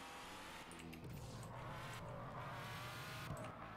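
A Ford GT races through a video game, its engine droning steadily at moderate level with faint tire noise, no talking over it.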